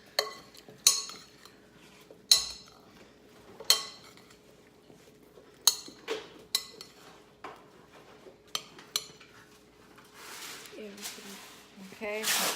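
Roasted Brussels sprouts being tossed with sprinkled pepper, giving sharp intermittent clinks and scrapes of a utensil against a dish, with softer stirring rustles and light kitchen noise near the end.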